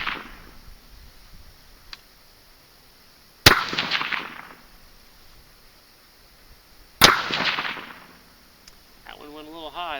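Two sharp rifle shots of .223 cast-bullet target loads at 50 yards, each a loud crack with a brief ringing tail, spaced a few seconds apart, with quiet outdoor background between.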